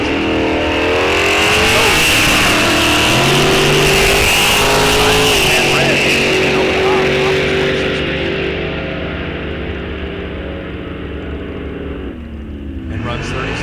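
A 1983 Mustang drag racing at Rock Falls Raceway in a bracket series, engine roaring loud and close as it accelerates, revs climbing and fading with distance, under an announcer's voice.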